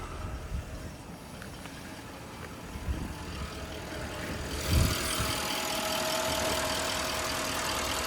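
Porsche Cayenne GTS engine idles with the hood open, a steady close mechanical hum and whir that swells with a brief thump midway, then settles into a broader, brighter running noise.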